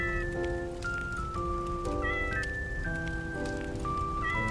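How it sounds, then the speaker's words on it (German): A cat in a video game meows again and again, its clear tonal cries rising and falling over a steady patter like rain. "Hallo Katze!"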